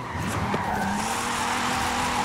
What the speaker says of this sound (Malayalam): ഇവിടെ നല്ലൊരു വളവുണ്ട്. ഡ്രിഫ്റ്റ് ചെയ്തോട്ടാ